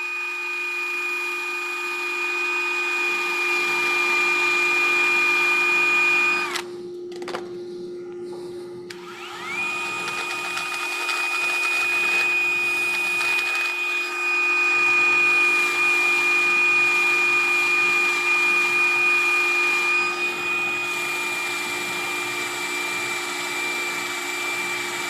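Wood turning on a lathe being sanded with 80 grit paper, a steady motor hum with a high whine and continuous abrasive hiss, briefly dropping out midway before resuming loud and constant.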